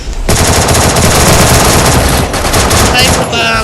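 Rapid, dense automatic gunfire from a shooter video game rattles on continuously and loudly for several seconds, bursts overlapping with almost no gaps.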